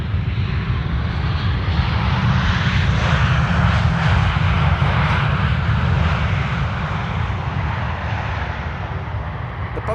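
Passenger aircraft PH-BXY roars continuously as it lands at Amsterdam Schiphol Airport on a morning arrival, a loud, sustained engine rumble with a broad rushing hiss that swells slightly and then eases toward the end.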